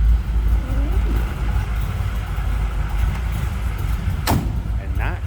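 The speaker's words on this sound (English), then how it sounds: "And not crazy over the top with the exhaust. Just a throaty, impressive sound out of this one." A 1962 Chevrolet Biscayne two-door sedan warms up with a steady, throaty low exhaust rumble, heard nearby and continuous, with a sharp click or knock near the end and voices in the background.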